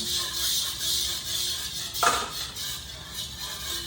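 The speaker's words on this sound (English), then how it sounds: "Mix it very quickly." A utensil stirs cornstarch quickly in a metal cooking pan, with faint scraping and clinks over a steady hiss and one sharper knock near the middle.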